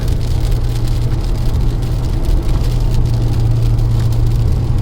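Dense road traffic in Malaysia, a steady loud wash of many vehicles passing with a constant low engine rumble and tire hiss, no voices.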